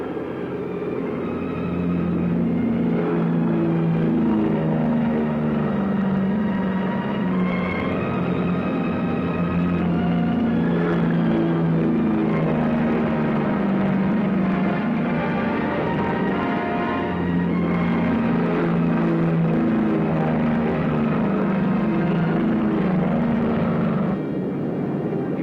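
A 1943 military aircraft revs to full throttle for takeoff, a loud, continuous low engine roar with shifting droning tones that holds steady for the whole stretch.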